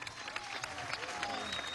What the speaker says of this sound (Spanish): desde aquí darle un gran aplauso al Consejo Nacional Electoral